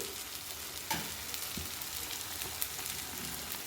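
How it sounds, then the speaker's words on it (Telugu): Tomatoes fry with coconut in a pan for biryani, giving a steady, close sizzling hiss with a couple of brief stirring scrapes. "టమాటాలు వేసి టూ మినిట్స్ బాగా ఫ్రై చేసేసుకోవాలి"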